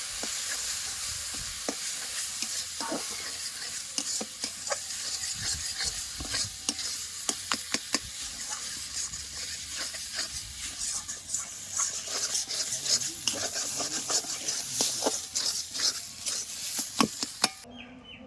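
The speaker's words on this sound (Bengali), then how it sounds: "গাজর সুজি দিয়ে আমি একটু ভালো করে নাড়াচাড়া করে নিয়েছি।" Grated carrot and semolina stirred in a ghee-coated pan for sweet pitha, a busy scraping and clattering of the spoon against the pan over a soft sizzle, irregular strokes continuing close by without speech.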